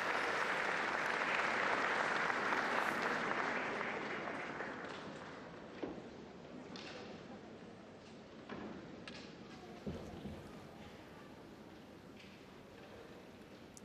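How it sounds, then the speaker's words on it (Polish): Pilgrims in Paul VI Hall applauding the Pope's arrival at a general audience, sustained distant crowd clapping that is strongest at first and then softens into a lower wash with scattered claps, voices faintly beneath. "przybywa tutaj do auli Pawła VI, witany, jak słyszymy, oklaskami pielgrzymów"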